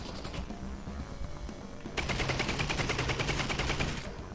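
SMG gunfire in the Half-Life Alyx VR game, bursts of rapid automatic shots that grow louder and denser midway, rattling steadily over game ambience.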